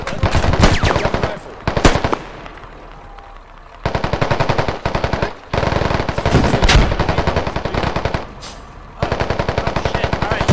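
Rapid automatic gunfire from a Squad military shooter game rips out in loud, close bursts with short pauses between volleys, one longer sustained stretch near the middle and several clipped strings of shots.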